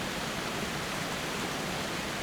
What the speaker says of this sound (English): This is kind of the top of the waterfall right here.